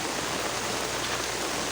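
A dense, steady hiss of heavy rain falling on surfaces near a street drain, unbroken and fairly loud throughout, with no voices.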